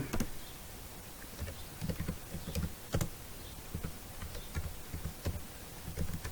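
Fingers type on a computer keyboard while entering a ledger name in Tally accounting software, quiet clicking keystrokes in uneven bursts, close and soft, with no talking.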